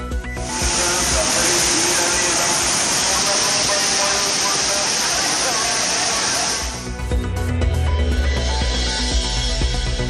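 Thirparappu waterfall in Kanyakumari, where tourists bathe, pours with a loud, dense, continuous roar of falling water that cuts off abruptly near the end, giving way to a lower, different sound.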